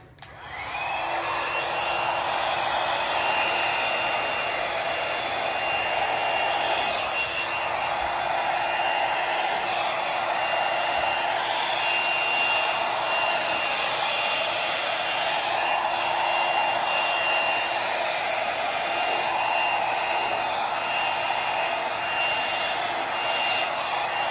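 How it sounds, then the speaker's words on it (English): A hair dryer roars steadily and loudly close by, a constant airy whine that holds without a break. "I'm gonna use my blow dryer to blow it out."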